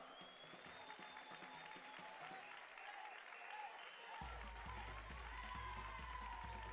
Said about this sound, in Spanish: Un aplauso para Maristas